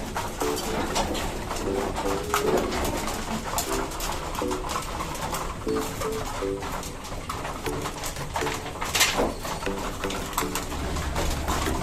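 Pigeons in a breeder loft coo while being fed, their soft repeated coos rising in regular bursts close by over a busy background of rustling and flapping.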